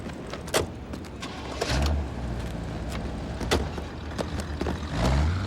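A car in the Blake and Mortimer: Heavy Weather game runs with a steady engine hum, broken by sharp clicks and thumps like a door and handling noises, with two low rumbling surges.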